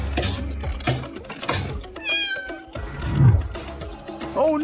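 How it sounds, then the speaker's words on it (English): A cat meows several times in a row, loud and close, with a plaintive, pleading tone. "A kitty is stuck in... well, not a tree exactly."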